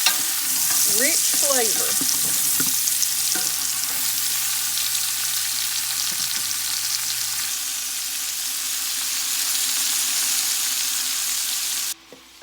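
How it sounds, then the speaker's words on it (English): Sausage and hog jaw frying toward golden brown for New Year's collard greens, with a loud, continuous sizzle under a brief spoken comment and a few light utensil clicks early on. "Just let it get that pretty brown on it"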